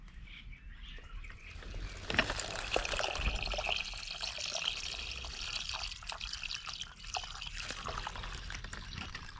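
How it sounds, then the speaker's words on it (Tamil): Water pours into a container with sugar for homemade red wine, a soft continuous splashing trickle heard close and fairly quiet, with no talk. "இப்போ தண்ணி ஊற்றிக்கலாம்."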